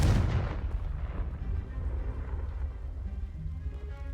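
Fire-blast spell explosion in the video game Hogwarts Legacy: a heavy booming burst that opens loud and rolls into a long rumbling decay.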